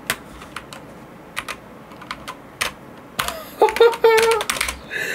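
Typing on a Steelseries Apex Pro TKL gaming keyboard, a string of sharp, separate keystroke clicks close by, building into faster, louder clacking toward the end with a brief electronic tone mixed in.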